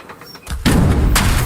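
In Age of Empires 3, cannons fire during a siege on a wall, giving loud booming blasts with heavy, rumbling impacts that run together over a noisy battle.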